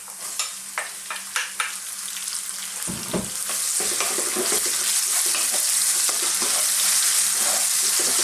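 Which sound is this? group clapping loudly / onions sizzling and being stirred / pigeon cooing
onions sizzling and being stirred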